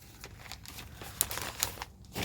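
A white sheet of paper is handled close up, with soft crinkling and rustling broken by a couple of sharp snaps, quiet overall and without talk.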